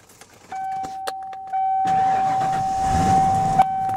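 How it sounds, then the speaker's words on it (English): A car engine cranks and catches, then settles into a steady idle with a constant electronic tone beeping underneath; no one speaks. "We'll give it a little cold start fire up."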